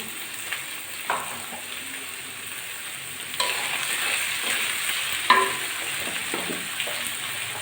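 Chopped onions with garlic and a pinch of salt sizzle steadily in a pan, with a few sharp scraping stirs standing out above the constant close frying noise.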